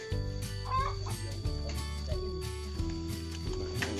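Hens clucking and squawking close by in a chicken coop, several overlapping calls over a low background hum.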